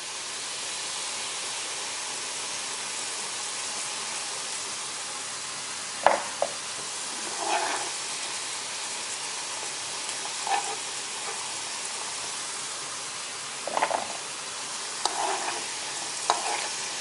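Beef chunks fry in hot oil for a Kerala-style beef pickle, a steady broad sizzle throughout, broken by a few scraping stirs and clinks of a utensil in the pan, no voices.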